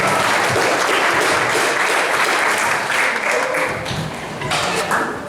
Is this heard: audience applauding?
yes